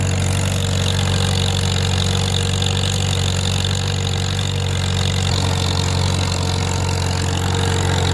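Farm tractor pulling steadily in fourth gear across a previously plowed field, its engine holding a continuous, loud, low droning rumble throughout with no letup.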